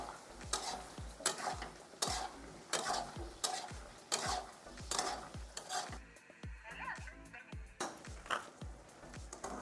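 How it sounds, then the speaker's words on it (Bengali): Diced brinjal fries in a pan, its quiet sizzle broken by rhythmic scraping strokes of a spatula, with a short pause in stirring midway. "এই দেখুন সুন্দর করে ভেজে নিচ্ছি।"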